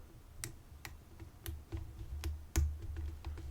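Sharp, sparse clicks from pins setting while an Abus Iron Rock 100 Year Anniversary limited edition padlock is picked with a hook and tension tool, close and isolated against a low background hum.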